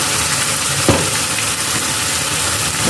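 Chicken leg pieces, about 500 grams, go one by one into hot oil for a red chicken curry, giving a steady, loud, close sizzle throughout with a brief spatter burst near the start and no talking.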